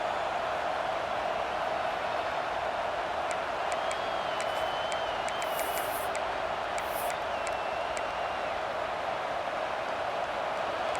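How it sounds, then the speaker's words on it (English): College football stadium crowd roaring steadily throughout, a dense continuous wash of cheering with a few sharper whoops and whistles rising on top. "It's early, but this crowd is fired up. Listen to this noise here."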